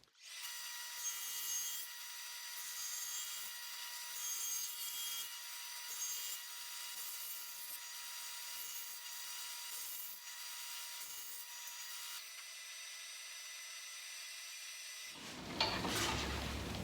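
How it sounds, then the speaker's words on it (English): Power saw cutting wooden end pieces to length for a console cabinet: a loud, sustained whining cut with rhythmic rasping pulses, running continuously for about fifteen seconds before the blade spins down, close and without talk. "So I'm going to now cut the 2 end pieces to length."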